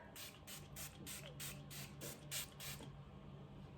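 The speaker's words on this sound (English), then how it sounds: "I'm going to be using the Valjeans Labs Matte Setting Spray" Matte setting spray mists onto a face in about nine quick, evenly spaced hissing spritzes, close and fairly soft, followed by a brief quiet pause.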